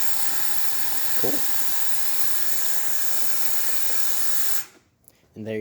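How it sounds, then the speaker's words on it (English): Jura S9 espresso machine steam wand hissing steadily and loudly on its own for several seconds, then cutting off sharply, followed by a brief mechanical clatter as it shuts down. "And then we can do, I believe this is steam."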